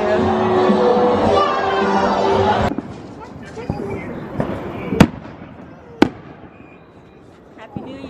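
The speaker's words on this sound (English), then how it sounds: "They doing fireworks out here." Dense crackling New Year's fireworks burst outside at first, then give way to a few sharp, separate bangs and pops over faint background voices.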